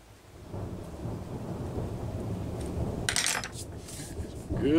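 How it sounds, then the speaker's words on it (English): Thunder from a passing thunderstorm rolls as a low, continuous rumble that builds slowly, with a brief sharp clatter mid-way and a swell at the end. "Good thunderstorms. I like it."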